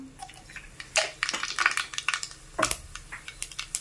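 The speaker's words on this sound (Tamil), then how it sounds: "இப்போ பாருங்கள், எண்ணெய் நல்லா காஞ்சிருக்கையா, கடுகு போட்டுக்கலாம்" Mustard seeds dropped into hot oil in a pan sputter and pop in sharp, scattered crackles, close and fairly loud, with metallic clinks between bursts.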